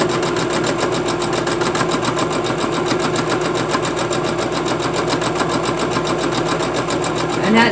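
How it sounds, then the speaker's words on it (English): A sewing machine stitches log cabin quilt blocks in a steady, continuous mechanical whir, with a rapid needle rhythm that holds unbroken from start to finish. "all I'm doing now is just sewing them down."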